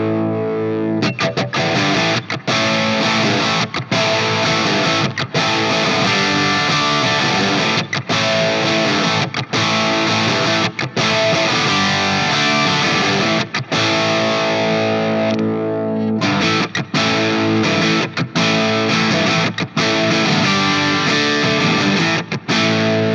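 An Ibanez RG653DX electric guitar plays a distorted classic rock crunch with the tone control rolled back, loud and dense, with rhythmic strummed chords and short breaks between them.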